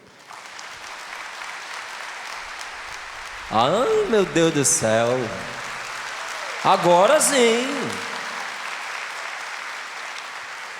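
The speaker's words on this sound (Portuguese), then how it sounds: "Vamos aplaudi-la?" A church congregation applauds, a continuous, dense round of clapping that fills the whole clip while someone speaks briefly over it twice.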